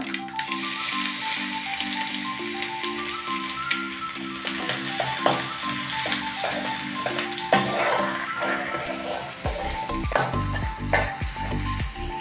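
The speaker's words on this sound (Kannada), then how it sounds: "ಆಮೇಲೆ ಜೀರಿಗೆ ಹಾಕಿರಿ ಈಗ ಬೆಳ್ಳುಳ್ಳಿ ಮತ್ತು ಶುಂಠಿ ಪೇಸ್ಟನ್ನು ಹಾಕ್ಕೊಡು ಸ್ವಲ್ಪ ಅದಕ್ಕೆ" Cumin and garlic-ginger paste fry in a pan for dhaba-style paneer, a steady loud sizzle with spoon scraping and stirring strokes throughout, close up and without talking.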